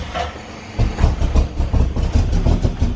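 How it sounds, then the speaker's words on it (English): An AC Cobra engine cold-starting, settling into a loud, uneven low rumble with rhythmic pulsing after a quieter opening, heard close and alone. "Let's go ahead and start off with the Cobra."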